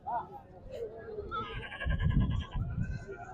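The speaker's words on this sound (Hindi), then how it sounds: "बहुत ही प्यारी बकरी है माशाल्लाह।" A goat at a livestock market gives a short wavering bleat partway through, close by, mixed in with ongoing talk from the people around it.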